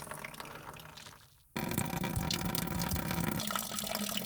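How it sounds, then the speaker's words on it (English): Engine cleaner and water mix drains from the coolant system of a Volvo BM 500, a steady rushing splash of liquid that turns louder and fuller partway through and keeps pouring. "Now I'm draining the engine cleaner and water mix."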